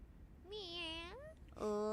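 A voice imitates a cat with a drawn-out, bending meow, followed by a second, brighter meow that cuts in right after it, both up close and clear.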